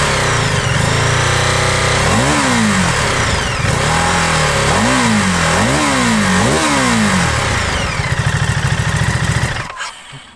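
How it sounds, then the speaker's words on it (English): A Ducati DesertX adventure motorcycle downshifts through the gears with its quick shifter, the engine blipping up in several quick rising-and-falling bursts, followed by crackling deceleration pops from the exhaust before the sound cuts off abruptly; loud and close. "the quick shifter is super crisp and smooth, and it makes some delightful noises as it blips down the box, along with a few tasty deceleration pops at the exhaust."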